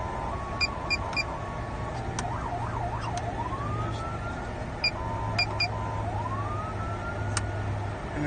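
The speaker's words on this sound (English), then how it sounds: "Oh, this is the horrible siren." A Code 3 RLS police siren on a 2023 Calgary police car cycles through short wails, yelps and electronic beeps, heard from inside the vehicle against a steady low hum.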